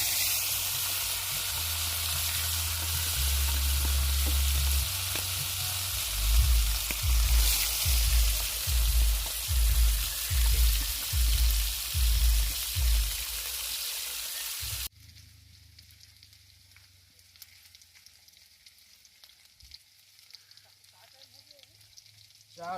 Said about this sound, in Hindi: तो अभी हमन के तेल गरम हुआ थे, तो इसमें मछली डालना है।